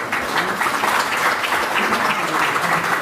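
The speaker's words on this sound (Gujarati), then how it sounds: "તાળીઓ થોડી ઓછી લાગે છે હજી" An audience claps steadily and fairly loudly at a poetry book launch, sustained applause from a room full of people with no speech over it.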